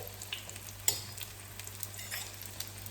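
Salt fish fritters fry in hot oil in a pan, giving a steady, moderately loud sizzle with occasional sharper pops and spits.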